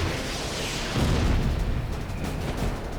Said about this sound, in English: Vic's first missile detonated by the tail